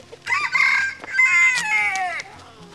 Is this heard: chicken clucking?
yes